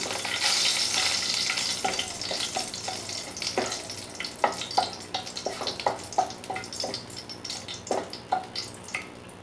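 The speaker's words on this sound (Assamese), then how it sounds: "জলকীয়া দুটা অকণমান ভাজা হোৱালৈকে এনেকৈ লৰাই থাকিম।" Two green chillies and bay leaf fry in hot oil in a pan for a rohu fish curry, stirred with frequent quick scrapes over a loud steady sizzle; no one speaks.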